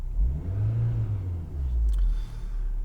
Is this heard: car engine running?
yes